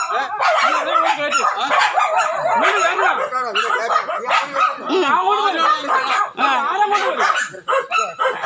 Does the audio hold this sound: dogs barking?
yes